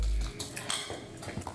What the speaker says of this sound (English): Add your onions and make sure your guacamole sound like this.